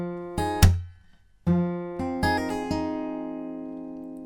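An acoustic guitar plays a simplified fingerpicked pattern from a song, with a few distinct plucked notes and chord tones ringing out and decaying cleanly, no voice present.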